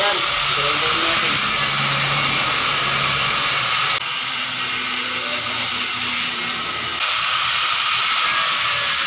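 Metal being ground for a homemade clutch holder on a Yamaha Sniper 150, a loud continuous high-pitched grinding hiss with slight shifts in tone as pressure changes.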